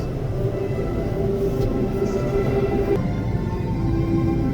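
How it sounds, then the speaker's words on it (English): A steady low rumble of a train rolling past, continuous and even throughout, with no talking. "Look, I see the train."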